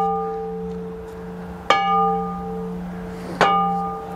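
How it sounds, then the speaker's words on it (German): Two sharp bell strikes ring out about two seconds apart, each leaving a long, clear, humming tone that sustains between hits. "Glockengeläut."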